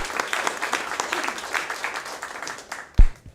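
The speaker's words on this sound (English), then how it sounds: "Yes, round of applause." Audience applause at a Coastal Commission public meeting, a steady patter of many hands for about three seconds before fading out with a final louder thump.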